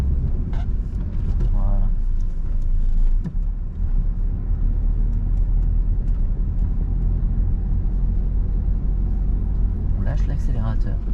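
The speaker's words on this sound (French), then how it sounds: "On accélère tranquillement. Et on met la 2." Car on a driving-lesson drive, engine rumbling steadily as it gently accelerates and shifts into second gear, a continuous low hum under an instructor's nearby speech.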